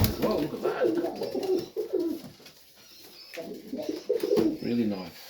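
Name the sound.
pigeons cooing in a loft, Serbian highflyers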